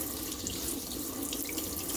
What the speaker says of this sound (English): And then I personally always rinse my tofu off.